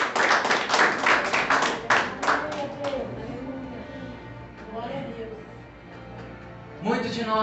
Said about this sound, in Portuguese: E que a igreja me dê uma salva de palmas.